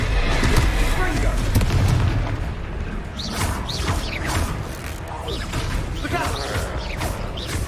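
Confringo fire spell blasts in the video game Hogwarts Legacy: booming impacts and crackling bursts in the midst of dense battle noise and creaking effects, with whooshing sweeps in the later seconds and a voice talking over the action.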